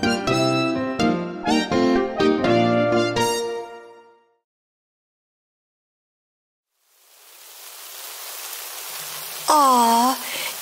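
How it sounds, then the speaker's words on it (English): Steady broadband hiss of rain sets in after a silent gap, preceded by bright melodic tones, with a short rising-falling voice-like call near the end. "Aw, it's raining!"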